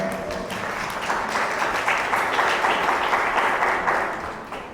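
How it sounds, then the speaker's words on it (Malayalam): Retreat audience at a Malayalam prayer gathering claps together in thanks, a dense wash of applause swelling steadily and then fading near the end. "ഒന്ന് കൈയടിച്ച് കർത്താവിന് നന്ദി പറയാം."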